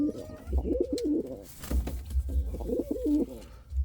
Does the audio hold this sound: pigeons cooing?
yes